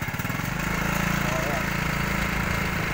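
A scooter engine idling, with a steady rhythmic putter and low mechanical drone held close and fairly loud throughout, some faint voices mixed in.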